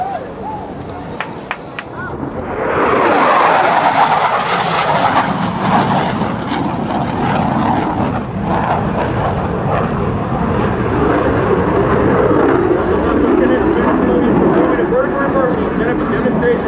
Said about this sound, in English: the Hornet high-speed pass